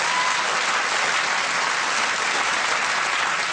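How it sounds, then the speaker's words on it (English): Studio audience of a TV chat show applauding, a dense steady wash of clapping that holds at full strength without letting up. "They're applauding me that I've made it?"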